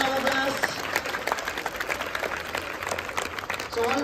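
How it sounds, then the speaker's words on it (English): Audience clapping at a student pooja ceremony, a moderately loud, continuous patter of many hands, slightly uneven, with faint voices mixed in at the start and end. "We shall start with big round of applause."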